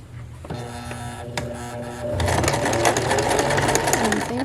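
A sewing machine runs a zigzag stitch beside knit stitches on a steeked knitted piece, starting slow with a few clicks, then speeding into a dense, continuous rattling whir close up.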